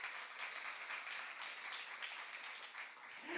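A church youth-service congregation claps together in praise, a soft, distant, steady patter of many hands that stays level throughout without voices.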